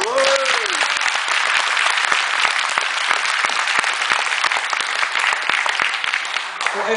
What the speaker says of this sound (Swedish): Kan vi ge Henry en applåd?